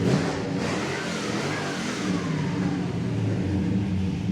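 A 1970 Chevrolet Chevelle SS restomod with an LS engine, finished in cranberry red, revs at moderate distance, a steady mid-pitched engine roar rising slightly and holding without any voices.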